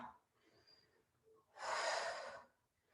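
A single strong, breathy exhale during an exercise class with side-to-side pliés. It rushes out loudly for about a second after quieter, softer breathing.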